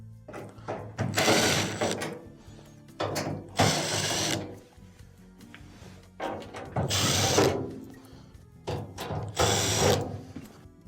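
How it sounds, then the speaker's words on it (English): A power screwdriver backs Phillips screws out of the front panel of an LG dryer, giving four distinct whirring bursts separated by short pauses and quieter mechanical clicks, close and clear. "Now, you'll have to remove these Phillips screws on the front."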